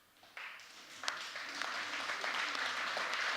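A crowd at a youth camp gathering rises to its feet and claps, the applause starting faint and swelling into a steady, dense wash of many hands with a few sharper claps standing out.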